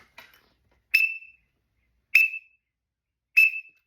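A duck call whistle sounds three short, sharp single peeps imitating a teal, evenly spaced about a second apart, each clear and close against silence.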